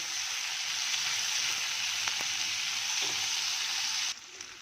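Chopped capsicum with salt and spices fries on a high flame, giving a loud, steady hiss of sizzling oil that drops off abruptly near the end.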